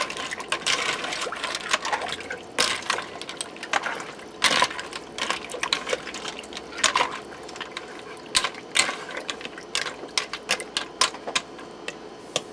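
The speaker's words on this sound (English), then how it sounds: "I'm going to put my lid on here. Lock it in place, set it on airtight." Mechanical clicks and ratcheting clatter of a pressure cooker lid being set on and twisted to lock, a run of close, sharp ticks and scrapes at a steady working pace, with no talking.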